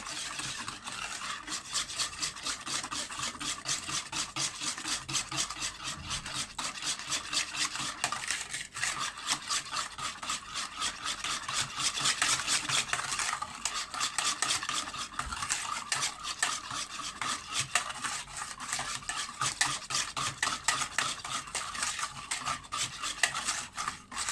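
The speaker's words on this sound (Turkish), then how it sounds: "çırpıcıyla çırpıyorum." A whisk beats vegetable oil into cake batter in a bowl for a simple homemade loaf cake, fast continuous metallic rattling and sloshing at a steady rapid rhythm, close and uninterrupted, with no voices.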